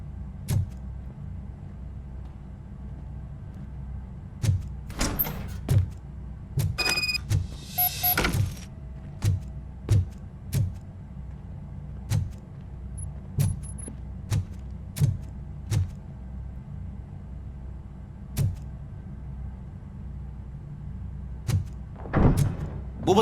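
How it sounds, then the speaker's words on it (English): In the video game RoboCop: Rogue City, a door opens with mechanical clicks and a brief whirring, grinding burst over a steady low ambient hum, followed by scattered clanks and thuds. "Now let me get that door open for you."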